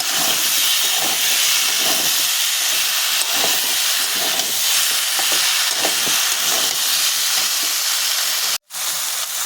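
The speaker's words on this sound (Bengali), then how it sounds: "বড়িগুলো দিয়ে আমি আরেকটু নাড়াচাড়া করে নেব।" Fried lentil dumplings (bori) being stir-fried in a pan with pumpkin, potato and drumstick pieces, a loud, dense, hissing sizzle with faint stirring, cut off by a brief drop near the end.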